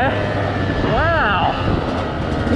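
A 2019 Beta 200RR two-stroke enduro motorcycle engine climbs in pitch as it accelerates, its rising buzz riding over steady wind and road roar, close and loud through the short run.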